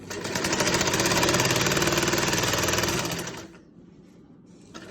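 A sewing machine stitches the leg hem of a salwar in one continuous, fast and loud run of about three and a half seconds, then stops, leaving quiet room noise.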